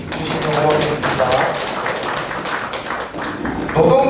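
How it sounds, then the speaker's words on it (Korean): Applause from a standing audience at a political party members' meeting in a hall. It runs continuously and fairly loud through the whole stretch, with scattered taps and a voice rising over it near the end. "다 같이 일어나셔서 박수 주시면 고맙겠습니다"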